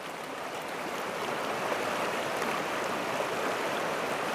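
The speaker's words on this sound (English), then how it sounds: "It runs in, comes straight down that where the big white water is." Fast river white water rushes over a mass of rocks and boulders, a steady broad hiss and roar close by, continuous and unbroken with no voices.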